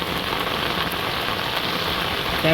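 Steady rain falling in a Bangladeshi village, a dense, even hiss of drops on surfaces close by, continuous throughout with no voices.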